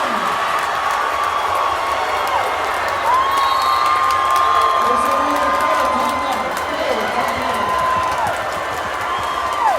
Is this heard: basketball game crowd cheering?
yes